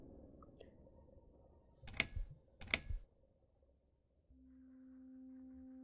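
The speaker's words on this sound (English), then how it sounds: "use F1 to F4 keys to quick save" Two sharp, loud computer keyboard key presses a fraction of a second apart, F-keys struck to quick save in the horror game The Cat Lady, over a quiet low ambient hum.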